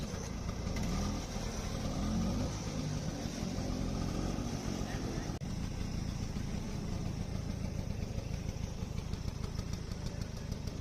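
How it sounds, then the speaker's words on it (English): A restored 1969 Vespa 150 scooter engine runs at a steady idle, a continuous close buzzing putter with a rough low-end rattle that holds evenly throughout, no talking. "Now that the engine is running smoothly"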